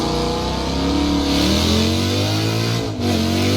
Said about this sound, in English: Very clean, beautiful burnout. Sounds absolutely amazing.